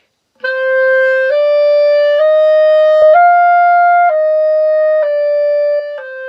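A single clarinet plays sustained notes from low G up to D, moving stepwise upward in clear, steady tones with brief breaks between notes.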